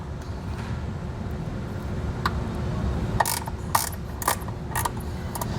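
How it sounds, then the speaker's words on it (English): A ratchet wrench loosens a tight 10 mm ground screw while mounting a trailer wiring kit, a few faint separate clicking bursts over a low steady background hum. "Now we'll go ahead and get this ground screw loosened up."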